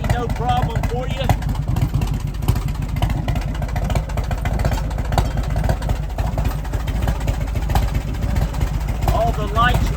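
A 1997 Harley-Davidson FLSTS Heritage Springer with a 113-inch engine and baffled dual exhausts runs steadily, a low continuous rumble close by, with someone talking over it.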